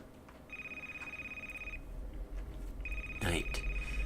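A phone rings in Atrocity with two separate electronic ring bursts a second apart, fairly quiet over a low room hum.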